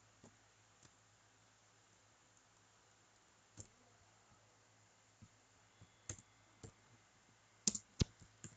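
Sparse computer mouse clicks and a few keyboard taps on a PC, faint and scattered over a quiet background hum, with a quick cluster of sharper clicks near the end.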